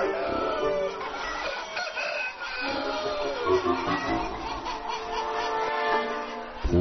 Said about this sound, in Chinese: 此起彼伏的鸡叫，就像是早晨拥挤的菜市场